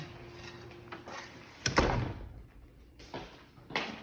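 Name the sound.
door being shut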